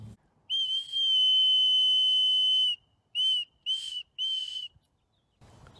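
Homemade whistle fashioned from a leftover Zoa energy-drink can, blown in a front yard: one long steady shrill blast followed by three short sharp toots, loud and close with no talking.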